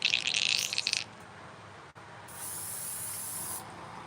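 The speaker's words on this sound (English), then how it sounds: "I think I might have clogged up the little airbrush." A small airbrush sprays paint in two short bursts of hissing air, the first about a second long and louder, the second longer and fainter after a brief pause, in a quiet room.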